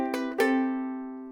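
Two down-strums on a ukulele left unmuted, so the chord rings on and slowly decays for over a second; close, moderately loud, with no talking.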